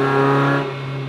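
A Mazda MX-5 engine drones loudly and close while driving, a steady low tonal hum with strong harmonics that eases slightly partway through, with no talking.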